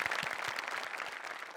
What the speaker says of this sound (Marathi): द ग्रेट दत्तू मोरे आणि आपला शर्मिश, यांच्यासाठी जोरदार टाळ्या होऊन जाऊ.